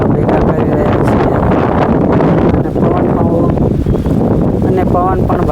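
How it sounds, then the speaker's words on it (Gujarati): Strong wind gusts across open farmland blowing up dust, roaring loud and continuous as it buffets the microphone while a person talks underneath. "અને પવન પણ વધારે છે એટલે ધૂળની ડમરી ઉડી રહી છે."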